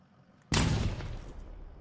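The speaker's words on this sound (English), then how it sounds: "Oh, did you shoot that guy?" A sudden loud gunshot burst from the video game Arma 3, cracking in sharply and trailing off into a rumbling echo, heard alone with no talk.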